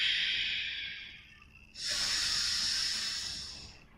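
Two long hissing breaths through the mouth during a yoga flow, close and soft. A fading exhale trails off, then a fuller, stronger breath out follows and sustains before easing away.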